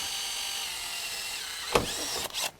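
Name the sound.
drilling out a rivet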